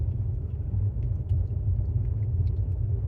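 A 2018 Tesla Model S 75D driving on Full Self-Driving, heard from inside the cabin as a steady low road rumble and tyre hum with no engine note, quiet and even throughout.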